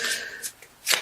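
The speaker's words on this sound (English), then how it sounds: "So I feel like these want to be shuffled." Tarot cards being shuffled in a few quick riffling bursts, close and fairly quiet, with short pauses between them.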